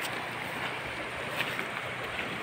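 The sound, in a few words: flowing water of a stream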